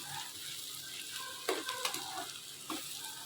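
Broken cashew pieces fry in a pan with a faint sizzle while a spatula stirs them, giving a few soft scraping knocks over quiet crackling.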